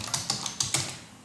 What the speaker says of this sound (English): Select the position and you start typing the text.